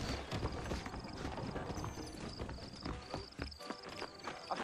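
Horses in a video game clip-clop steadily over hard ground, the quick repeated hoof strikes close and continuous, set among busy background game sounds.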